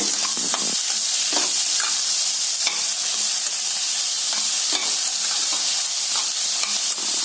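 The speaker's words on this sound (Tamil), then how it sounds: "நல்லா இந்த வெங்காயத்தோட வதக்கி விடுங்க." Chopped beetroot sautéing with onions in a pan for a beetroot potato poriyal, a loud continuous sizzle with irregular scraping and stirring knocks of the spatula.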